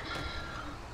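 A truck's reversing alarm in the game GTA 5, heard briefly as a faint beeping under a low engine rumble, lasting about a second.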